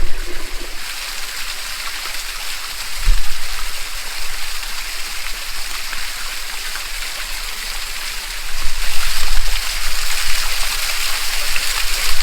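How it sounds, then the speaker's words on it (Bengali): A waterfall near Lungsel, a hill village near Siliguri: a loud, steady broadband rush of falling water heard up close, with the roar swelling slightly at times and no talk. "বাহ কি দারুণ একদম ওয়াটারফলটা"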